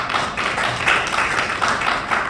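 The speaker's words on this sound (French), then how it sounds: "Il faut l'applaudir très fortement." An audience at a comedy show by impersonator performers claps briskly and steadily, a dense patter of many hands, fairly close and fairly loud, with no talking.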